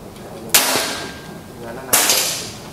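Two sharp, loud shots from a Bocap FX Mahameru wooden full-CNC air rifle ring out close by, each a crisp crack with a short decaying tail, spaced well over a second apart.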